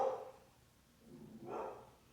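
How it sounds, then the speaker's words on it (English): A dog barks twice, a short burst at the start and another after a pause, both sounding somewhat distant and muffled with no talking. "My dog's barking."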